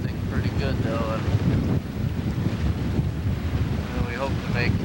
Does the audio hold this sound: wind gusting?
yes